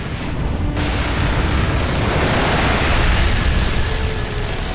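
Gears of War 2 battle audio: a dense, loud barrage of gunfire and explosions rumbling continuously and close, heavy booms and mechanical clatter packed together with no break and no voices on top.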